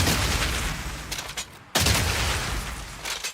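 Shotgun blasts in a video game, loud booming shots stacking into a dense barrage with a brief silent gap midway before the firing resumes.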